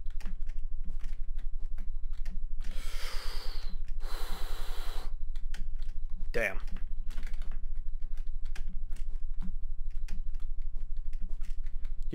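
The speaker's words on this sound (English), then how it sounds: "You can, like, hear me aggressively pounding keys until I get reoriented and stuff." Rapid, hard clacking of computer keyboard keys being pounded during Minecraft parkour play continues steadily throughout, close and busy, with two bursts of breathy noise and a short spoken exclamation in the middle.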